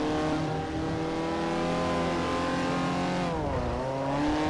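Race cars in the Forza Motorsport 4 video game, a Toyota and a Citroen among them, roar continuously with engines revving and shifting pitch, a brief dip and swell of revs near the end.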